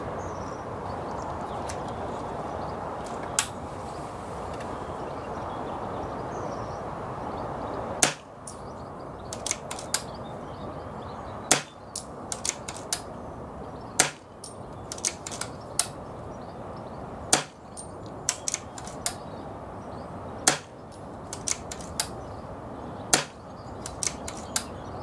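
A Retay T20 air rifle fires at a spinner target about 40 yards away on a windy day, giving sharp, isolated cracks every few seconds, each followed by faint ticks, over a steady rush of wind.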